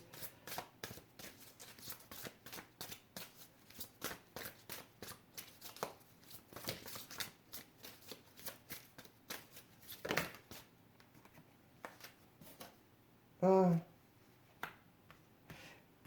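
A tarot deck being shuffled by hand: a steady run of crisp, close flicks and riffles with soft rustling, then a brief louder clatter near the end.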